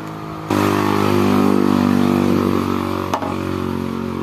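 A loud, steady engine roars close by as vehicles pass on the road outside, idling and revving, with a brief knock near the end.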